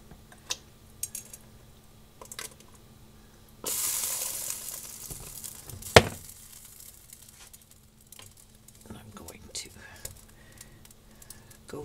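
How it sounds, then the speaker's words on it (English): Mushrooms drop into a hot pan for canned beef stew and set off a loud burst of sizzling. It surges suddenly and then settles to a softer crackle. Light clatter and quiet voices sit around it. "So now I'm going to add some of those mushrooms from the top."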